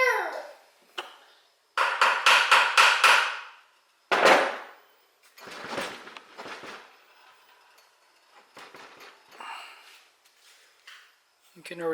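A flywheel puller cranked on the bottom end of a Yamaha Blaster motor gives bursts of sharp metallic clicks and knocks, close and fairly loud, separated by pauses, with someone talking in between.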